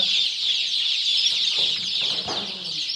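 A flock of free-range village chickens clucks and chatters continuously nearby, a dense, busy chorus of high calls with a few louder squawks.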